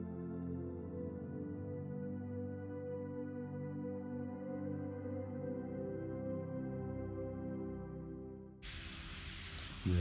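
An airbrush spraying paint for a realistic flame and candle artwork: a steady low tonal hum runs for most of the time, then a sudden loud hissing spray bursts in near the end.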